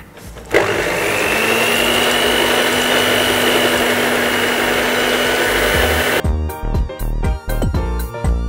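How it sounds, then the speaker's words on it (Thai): An electric mixer whirs loudly and steadily at low speed, beating eggs into butter and sugar for a chocolate almond cake, then cuts off and gives way to rhythmic background music. "เปิดเครื่องความเร็วต่ำตีก่อนให้พอเข้ากันแล้วค่อยใส่ส่วนต่อไปนะคะ"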